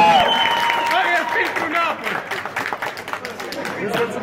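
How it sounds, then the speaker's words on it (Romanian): A party crowd applauds during a game of fishing something from water with the mouth and dipping the face in flour, with dense clapping and cheering mixed with loud overlapping voices and a few whistles throughout. "Aplauze pentru Johnny."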